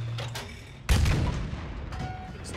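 A tank cannon fires a single shell in a World War II-style combat video game, a sudden loud deep boom that rolls on as a long rumbling decay, with quiet game ambience before it.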